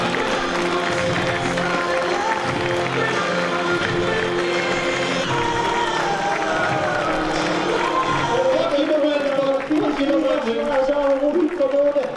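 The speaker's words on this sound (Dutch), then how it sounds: "En het applaus, dat is voor hem." A crowd applauds and cheers for Huub van Noorden, winner of the 2013 Kustmarathon, a steady loud roar of clapping and voices under continuous commentary.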